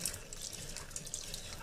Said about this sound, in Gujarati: ગરમ પાણીથી દાળને ધોઈ નાખશું